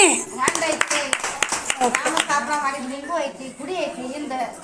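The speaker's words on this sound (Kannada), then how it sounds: "ಚಪ್ಪಾಳೆ" Hand clapping breaks out in a run of sharp, irregular claps around a person narrating about the ancient site of Shabarikolla in Ramdurg taluk, Belagavi district, with talk continuing over and between the claps.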